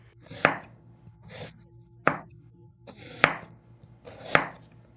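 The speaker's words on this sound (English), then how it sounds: "I'll cut these 2 onions into half moons." A knife slices onions into half moons on a cutting board for a liver recipe, four sharp, close chops at a steady pace, each with a brief crisp cut before the blade knocks the board, no talking.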